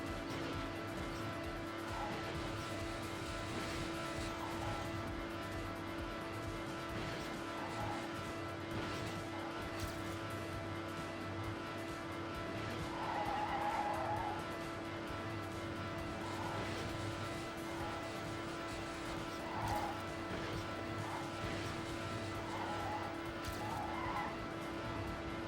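A race car in a racing video game holds a steady, loud engine drone for the whole stretch, with faint tire squeal and skid noise rising now and then over the constant hum.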